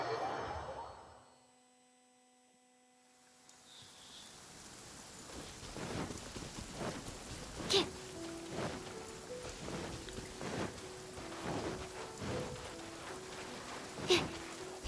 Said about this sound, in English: Though it's raining, so Kazuha already has an advantage.